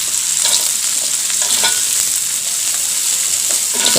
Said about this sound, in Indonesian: Lalu kita tumis-tumis